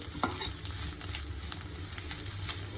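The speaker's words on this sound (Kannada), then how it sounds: "ನೋಡಿ ಇವಾಗ ಚೆನ್ನಾಗಿ ಫ್ರೈ ಆಗಿದೆ" Eggs frying in a pan, a steady close sizzle and crackle with occasional stirring scrapes, no voices.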